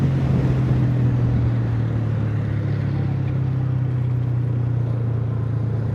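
Steady engine rumble from road traffic on a bypass, heard from a Honda 125 motorcycle, a continuous low drone with a constant hum, loud and unbroken, with no talk over it.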